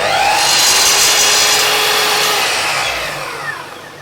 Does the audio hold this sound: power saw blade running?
yes